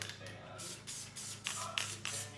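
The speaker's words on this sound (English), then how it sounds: "Okay, so I've got my spray adhesive" A spray adhesive can hisses in several short bursts separated by brief pauses, close and fairly loud.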